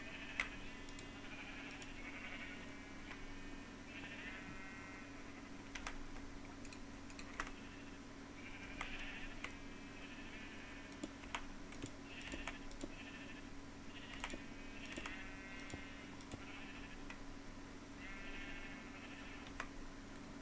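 Soft, repeated sheep bleats from Minecraft recur every few seconds beneath steady keyboard clicking and a faint background hum.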